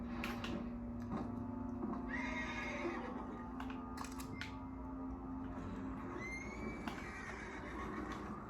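A horse in the Western video game Red Dead Redemption 2 gives several whinnies and neighs over a low ambient bed, with occasional hoof and movement sounds throughout, fairly quiet and without talk.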